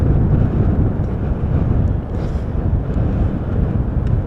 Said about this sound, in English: We have a little bit of a breeze over here.